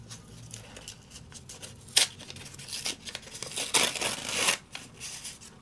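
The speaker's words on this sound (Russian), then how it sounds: "Открываем предпоследний пакетик из коллекции «Персиковая" A collectible blind bag packet from a peach-themed collection being torn open, with short crinkly rips and rustling plastic bursts close by, the loudest tears near the middle and end, and no talking.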